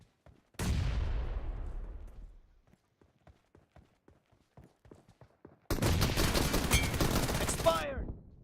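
AK rifle fire in the PUBG Mobile game: a single booming shot rings out and decays, a stretch of light ticking taps follows, then a dense sustained burst of automatic fire ends abruptly.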